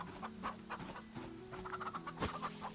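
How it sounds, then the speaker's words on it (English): Chickens in the farming video game Farm Together, a run of repeated soft clucks over a light background tone, with no talking. "Those are our chickens."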